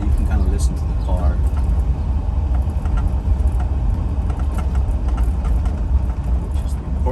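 A 1969 Camaro's engine runs nearby as a steady low rumble, with voices talking over it at times.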